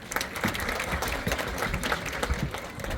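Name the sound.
audience applause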